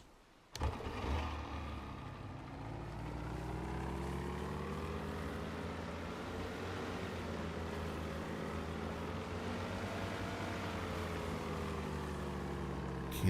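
A boat engine starts up in the survival game DayZ Frostline on Sakhal, a sharp catch followed by a steady, loud motor drone that holds alone for the rest of the clip.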